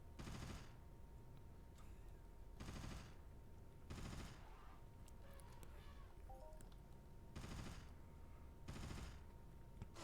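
Bursts of gunfire from shooting female creatures in the Entropia Universe game, five loud volleys about a second long each, separated by quieter gaps with faint game effects and a steady hum.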